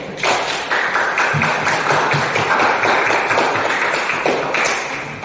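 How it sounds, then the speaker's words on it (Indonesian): A classroom group claps for the first team's presentation, a continuous, busy patter of many hands that stays loud and even for about five seconds before easing slightly at the end. "Kita beri tepuk tangan untuk kelompok satu."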